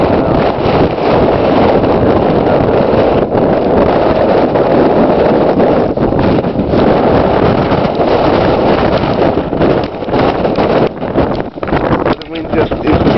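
Strong blizzard wind roars continuously and loudly across the microphone, buffeting in gusts throughout.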